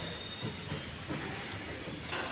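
A goods train passes near the track at Morgram on the Nalhati–Azimganj line, a steady broadband rumble with wheel clatter and hiss holding level throughout.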